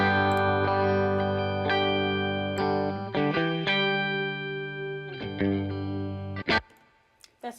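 Electric guitar chords rung out and held, thick with gritty distortion and saturation from plugins in Logic Pro, changing every second or so before a short pick scrape and fade.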